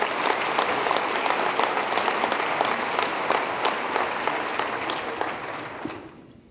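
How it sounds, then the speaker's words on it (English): Large audience at a New York state budget presentation breaks into sustained applause, a loud, dense roar of clapping with sharper individual claps, holding steady before dying away abruptly at the end. "Let's give yourselves a round of applause for really a great piece of work."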